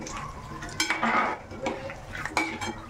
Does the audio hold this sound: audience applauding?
no